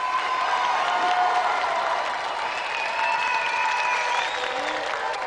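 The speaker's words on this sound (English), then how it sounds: "Another round of applause for David Finch." Studio audience applause at a televised video game show, a dense, steady roar of clapping with some cheering that holds loud and even throughout.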